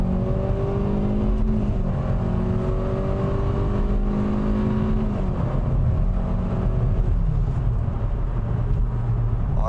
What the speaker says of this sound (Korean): 자, 이제 고속 영역으로 들어가기 위해 한번 쭉 밟아 보겠습니다.